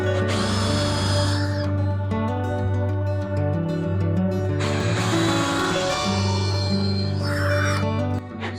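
A power drill boring a hole in wood whirs steadily, its motor pitch dipping and rising as it bites in, with brief pauses between runs.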